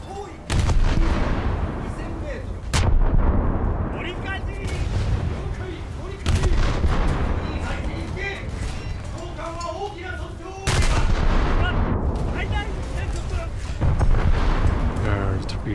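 Naval guns firing high-explosive shells in a warship video game, heavy booming salvos that recur every few seconds over continuous battle noise and crew voice callouts.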